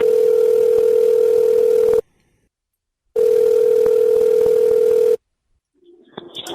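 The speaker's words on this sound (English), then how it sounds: "Right, Tracy, we're just about to make a secret little phone call" A steady telephone dial tone sounds loud and close for two stretches of about two seconds each, split by a clean silence, before faint noise follows.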